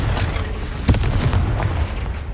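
In the video game Hogwarts Legacy, the Confringo spell goes off as one sharp, booming blast. It rises briefly from a steady, rumbling game ambience, with no talk during the blast.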